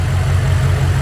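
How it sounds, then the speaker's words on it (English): A 1200HP BMW X6M engine idling after its first start-up, a steady deep low hum with even, smooth pulsing, close and loud with no voices. "look how clean she idle. Listen to this idle."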